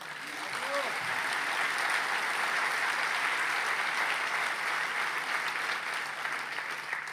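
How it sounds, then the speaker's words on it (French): A large audience applauds steadily at a festival opening ceremony, a dense wash of clapping that holds at full strength throughout, with a voice faintly audible at the start. "Je vous demande de les applaudir très très fort."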